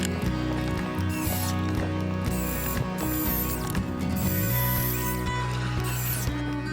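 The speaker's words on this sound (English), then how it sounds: "drilling in the first screw, second hole being drilled, second screw going in" A drill drives screws into a pallet wood magazine rack, a loud continuous whirring and ratcheting mechanical grind with shifting pitch and short pauses between runs.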